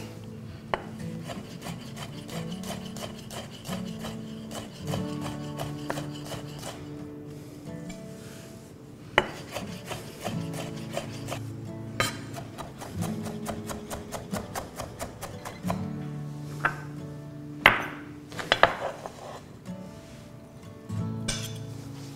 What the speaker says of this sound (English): So I want to cut this to sort of roughly chopped, I guess you'd call it, rather than finely minced